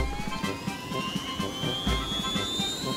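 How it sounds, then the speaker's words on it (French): Steady whirring engine drone of a cartoon helicopter flying inside a room, continuous and fairly loud, with a faint rising whine layered on top and no speech. "Hélicoptère, voler à l'intérieur de la pièce et effectuer une recherche aérienne"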